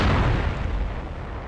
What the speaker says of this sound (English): artillery shells begin exploding everywhere